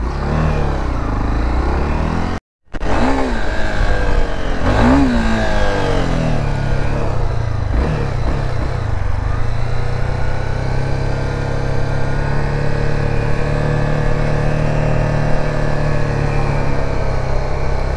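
A delivery motorcycle's engine revs up and down loudly and close, then settles into a steady idle for the remainder, with a brief cutout early on.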